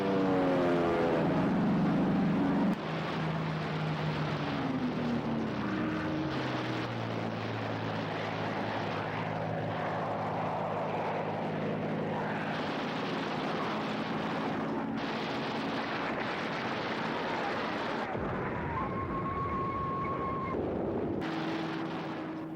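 Aircraft attack near a canal in a World War II Midway-era war game, with droning engines and rumbling explosions layered over a steady, loud mix of game music and effects throughout.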